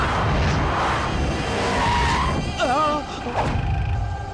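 A car skids as it swings around mid-chase, its tyres letting out a short wavering squeal over the roaring engine, while voices shout nearby.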